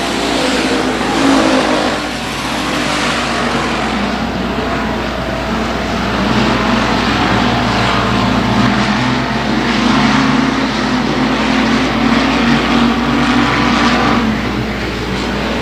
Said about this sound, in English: Owens drives it deep off into the corner of the middle line of the racetrack